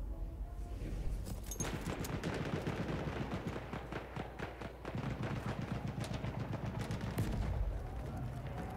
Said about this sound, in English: Follow the gunshot, follow the gunshot.